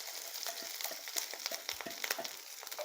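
Dried red chillies, onion, curry leaves and spices crackling in coconut oil after mustard seeds pop, for a jackfruit seed and ivy gourd dish; quiet, sharp irregular pops and spits over a soft sizzle.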